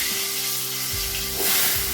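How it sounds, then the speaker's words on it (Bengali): Salted, turmeric-coated potato pieces crackle and sizzle in hot oil in a wok, a loud, close frying hiss that swells briefly near the end. "দেখো আলুগুলো আমি দিয়ে দিলাম তেলে, এবার আলুগুলো ভালোভাবে ভেজে নেব।"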